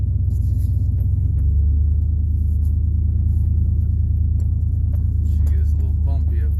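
A Chevy truck crawls offroad over big rocks, its low engine rumble steady and close throughout, with faint creaks and knocks above it.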